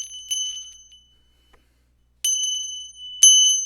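A traditional Tibetan shang bell rung during a Vajrayogini Chod healing practice gives bright, sustained metallic rings: one strike at the start that fades, then silence, then two more clear strikes near the end, close and alone with no talk.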